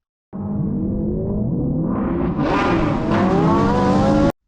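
Edited race car pass-bys with stereo panning: a loud, steady engine roar that holds, then swells brighter and more intense as the cars sweep past, ending abruptly with no talk.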